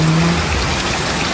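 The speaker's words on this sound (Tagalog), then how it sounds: "Ngayon po ay maulan dito sa amin." Heavy rain pours steadily onto surfaces, a loud, dense hiss that holds through the whole moment.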